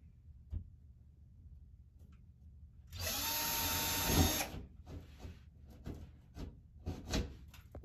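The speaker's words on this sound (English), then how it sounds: "I'm gonna go ahead and drill some holes to be able to put the mounts in." A power drill whirs steadily for about a second, loud and close, drilling mounting holes for a bathroom towel bar, followed by scattered knocks and scraping in a quiet room.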